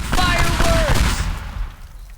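Fireworks bursting in the destruction sandbox game Teardown, a loud run of crackling blasts packed into the first second or so, then fading into a low rumble while a voice talks over the opening.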